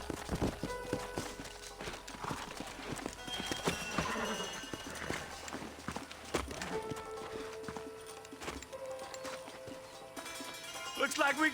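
Horses in the video game Red Dead Redemption, hooves clopping in a quick rhythm with occasional whinnies, set against game music, gunfire-like hits and character speech.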